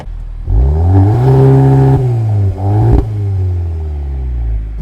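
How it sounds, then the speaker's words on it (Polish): A Cupra Formentor VZ SUV in performance mode, its engine revving up loudly and holding a high droning note, then a sharp crack from the exhaust followed by a falling rev, heard close with no talking. "Nawet w tym trybie potrafi już strzelać z wydechów."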